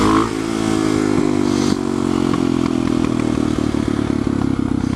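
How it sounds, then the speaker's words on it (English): An SM610 motorcycle holds a slow wheelie at low speed, its engine throttling in steady, loud pulses with a rough, rattling idle and slight surges, close to the listener. "so I'm just throttling that up at low speeds."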